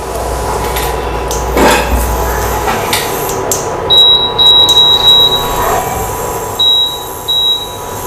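Garlic and sweet flag fry in 150 ml of coconut oil in a pan, with a constant sizzle under clinks and scrapes of a spoon stirring against the metal, plus a few short high beeps.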